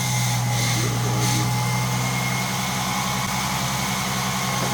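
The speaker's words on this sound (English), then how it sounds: "Yeah, that engine's quiet." Engine of a 1995 Ford Mustang that sat unused for 15 years idles steadily after fuel system repair, a constant low hum with a faint whine, close and even throughout.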